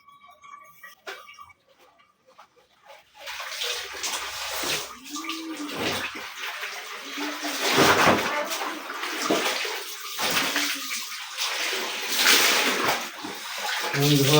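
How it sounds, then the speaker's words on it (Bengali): A lungi is washed by hand in water, with repeated splashing and sloshing that grows louder after a quiet start and is mixed with other sounds between splashes. "এখন আমি লুঙ্গিটা ধোবো।"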